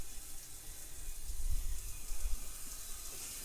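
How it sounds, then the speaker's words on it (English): Water running from an outdoor shower at a 1923-era Madrona house, a steady hissing spray with some low splashing that swells slightly midway, heard alone without talk. "This is a working shower, and no, I'm not going to get in it, but I am going to show it off."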